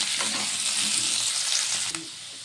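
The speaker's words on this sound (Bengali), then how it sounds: "তেল গরম হয়ে গেছে, এখন আলুটা দিয়ে দেব।" Hot oil crackles and sizzles loudly for about two seconds as potatoes go into a wok, then drops abruptly to a quieter, steady fizz.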